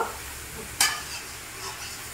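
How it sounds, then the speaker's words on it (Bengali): Brinjal fries with onion in a pan for a fish fry recipe. A quiet, steady sizzle is broken by one sharp scrape of stirring, with no voices. "তো এবার আমি পেঁয়াজের সাথে বেগুনটাকে ভালো করে একটু ভেজে নেব।"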